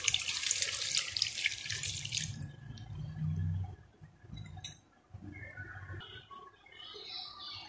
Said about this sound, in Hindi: अब इसमें 1 गिलास पानी जाएगा।